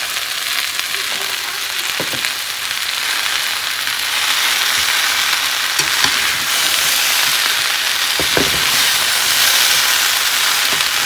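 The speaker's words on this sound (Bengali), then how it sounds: "ডাঁটা দেওয়ার পর একটু ভাজা ভাজা করে নিয়েছি।" Vegetable stems fry in a pan with a steady, loud sizzling hiss that fills the clip, broken by a few scraping stirs and utensil knocks close by, no talking.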